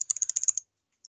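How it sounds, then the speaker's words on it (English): A computer keyboard clatters through a quick burst of about nine crisp keystrokes, close and clear, then stops, leaving a single faint tap after a short pause. "I can still type it out"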